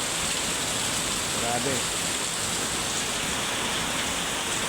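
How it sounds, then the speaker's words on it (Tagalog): Steady, dense rain pours down in Catbalogan City, Samar, close and continuous, with a brief spoken word partway through. "Umuulan."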